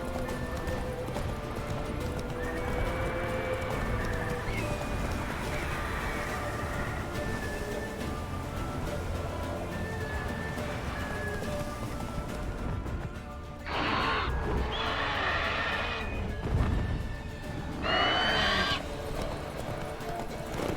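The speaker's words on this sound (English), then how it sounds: "Cavalo burro, velho." A horse in The Witcher 3 gallops with steady rhythmic hoofbeats under game music and ambience, letting out loud neighs partway through.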